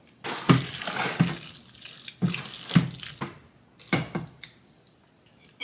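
Liquid is poured into a pot while cooking mac and cheese, coming as several short splashy bursts of pouring separated by brief pauses, fairly close and clear.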